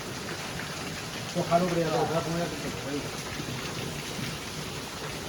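Steady rain pours down with a brief rumble of thunder partway through, while people talk over the downpour.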